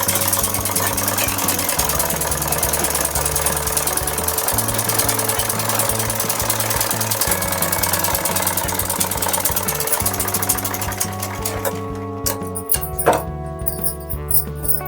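A sewing machine runs at close range while stitching salwar fabric, a loud, steady mechanical hum with repeated shifts in pitch and a brief slowdown near the end.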